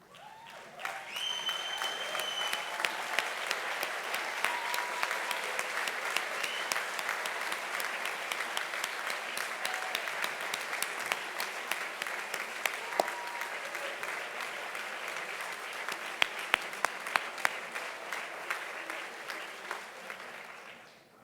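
Sustained applause from a large audience of students and faculty at a university recognition ceremony, steady clapping that swells quickly and carries on for about twenty seconds before tapering off.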